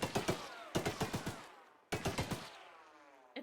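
Gunfire in the video game Choo Choo Charles: rapid bursts of loud, sharp shots, four or five per burst, with three bursts separated by brief pauses and a trailing echo after each.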